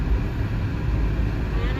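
A car with a loud exhaust rumbles in a parking lot, a heavy low drone close by and steady throughout.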